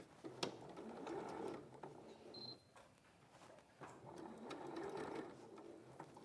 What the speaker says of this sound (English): what we're going to do is sew back round